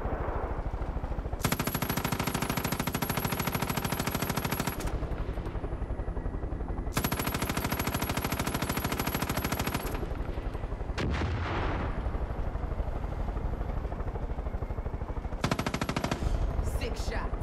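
Gunshots in the video game Far Cry 5, heard as long sustained bursts of rapid, loud automatic fire separated by short pauses, with echoing tails and ambient game noise between volleys.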